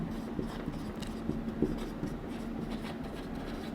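A marker or chalk scratches across a board as possible ways are written out for a permutations and combinations lesson, giving soft irregular strokes and taps over room hiss, with no speech.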